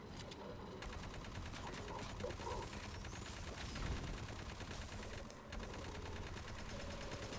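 Rapid sustained gunfire from the video game Aliens: Fireteam Elite, a dense stream of automatic shots running almost continuously, faint in level and with no clear speech over it.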